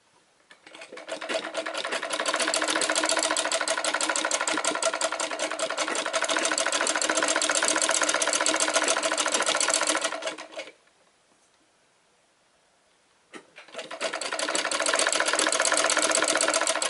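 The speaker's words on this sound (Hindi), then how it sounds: "तो हम सिलना स्टार्ट करेंगे इसको।" A sewing machine stitches piping onto a cloth roti cover in a loud, fast, even mechanical chatter for about ten seconds, stops for a short quiet pause, then starts running again at the same steady pace.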